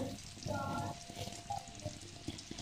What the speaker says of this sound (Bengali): ফুচকা ভাজা হচ্ছে, তেল গরম করে সব বেলে রাখাগুলো একটা একটা করে ছাড়া হচ্ছে।